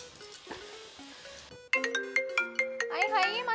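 A phone ringtone starts abruptly and plays a bright, repeating melody loudly nearby, with faint talk beforehand.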